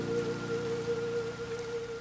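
Steady rain in the Minecraft video game, a soft, constant patter with a faint tonal hum beneath it, no voices.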